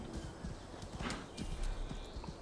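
Horse hooves clip-clop along a road in Assassin's Creed Valhalla, a steady rhythmic trot of clattering steps over continuous background rumble.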